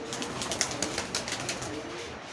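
Racing and fancy pigeons kept by a longtime fancier coo and shuffle in a loft, soft repeated calls close by over a steady background hiss.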